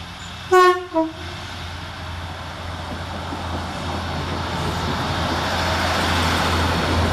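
Northern class 158 unit 158844, running Saltburn to Darlington, sounds a short two-tone horn on its approach to Thornaby railway station. A low, steadily building rumble follows as it draws nearer.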